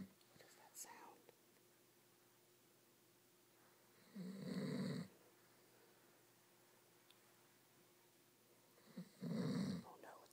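A person snoring in two separate loud bursts, one around the middle and one near the end, each a low rasping breath with quiet gaps between and faint background noise.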